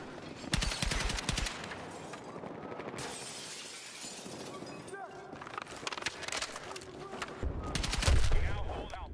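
Gunfire in the video game Battlefield 6 during a Breakthrough match: rapid automatic bursts and sharp shots, some near and loud, others distant, mixed with impacts and battle clutter under a player's speech.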